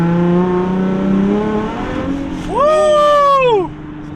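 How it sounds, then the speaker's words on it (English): Loud Nissan 350Z engine driving on a snowy road, a droning exhaust note that climbs through a sharp rev and upshift, close and prominent, briefly cresting before dropping back. "the real downfall here is how freaking loud my Z is"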